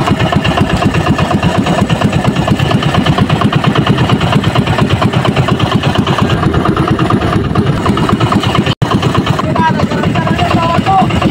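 An idling boat engine with an uneven, misfiring run on a small fishing boat setting crab net traps, a loud, close, steady pulsing chug that continues for several seconds, with no talking over it.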